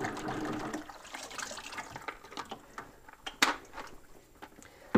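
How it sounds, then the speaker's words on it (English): Fluval ceramic ring media from an aquarium canister filter being dunked and shaken in a tub of water, giving a burst of splashing and sloshing up close, then scattered small splashes and drips. "So let me grab this one. This is just filled with fluval rings here. Looks nice and grody, so I'm just going to dunk it to rinse it and shake it."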